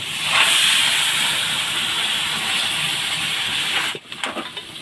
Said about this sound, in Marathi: यांना तेलामध्ये चांगलं परतून घ्यायचं